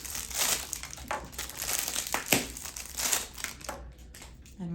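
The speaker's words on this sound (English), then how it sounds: "We're going to open up all the packaging." Medical flush syringe packaging is torn open and handled, giving a busy run of plastic crinkling and crumpling close up, loudest in the middle and easing off near the end.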